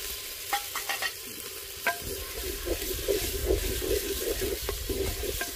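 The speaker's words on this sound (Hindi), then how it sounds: "पिसा हुआ प्याज का पेस्ट ऐड कर दिया हमने देखिए हांडी में" Ground onion paste frying in a handi while being stirred, a continuous close sizzle with scraping spoon strokes and a few sharp clinks near the start, no speech.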